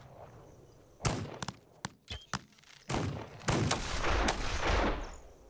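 Irregular gunshots in This Land Is My Land: sharp individual cracks and short bursts of various loudness, with a denser stretch of overlapping shots near the end.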